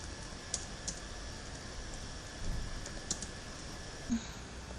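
Light, steady tapping on a computer keyboard as a short name is entered, soft clicks spaced irregularly against a faint background hiss, with no voices.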